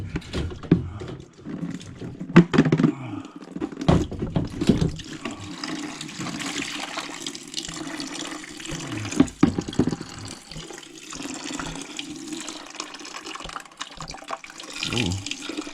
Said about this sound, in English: I got a feeling there's gonna be some water in there.